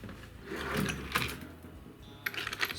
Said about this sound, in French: on va percer à 8